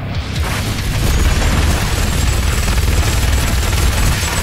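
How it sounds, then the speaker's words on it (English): Gunfire against a tyrant in the video game Doom Eternal, a loud, dense and continuous roar of shots and booms that fills the whole stretch with no pauses and no voices. "to defeat a tyrant, shoot it until it dies"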